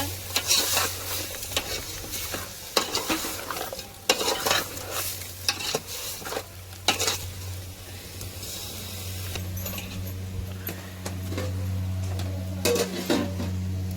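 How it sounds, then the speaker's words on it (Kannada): Chicken tempering frying in a pan with turmeric powder and salt, with a steady sizzle under repeated loud scraping and clanking of a spoon against the pot as it is stirred close by. "ಇವಾಗ ಚಿಕನ್ ಒಗ್ಗರಣೆ ಹಾಕೊಂಡಿನಲ್ಲ ಅರಿಶಿನ ಪುಡಿ ಮತ್ತು ಉಪ್ಪು ಹಾಕೊಂಡಿನಿ ತಿರುಗಿ"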